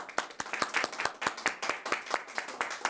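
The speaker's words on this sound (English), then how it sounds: "Those present, please join us in a round of applause." A small meeting audience claps together, producing rapid, dense hand claps in a steady patter that lasts about three seconds at moderate loudness with no voices.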